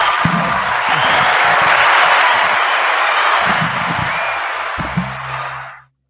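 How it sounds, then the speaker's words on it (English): A canned applause sound effect track of crowd clapping and cheering plays loud and steady for about six seconds, with a few brief voices and whoops underneath, then cuts off abruptly. "Did you upgrade the applause, Jonathan?"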